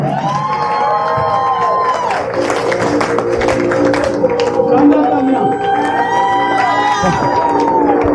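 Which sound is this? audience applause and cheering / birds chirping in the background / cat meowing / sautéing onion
audience applause and cheering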